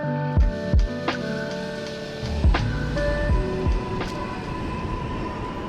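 New York City subway train, rumbling and clanking with sharp metallic knocks and bangs over a steady rail roar, close and fairly loud, with no talk.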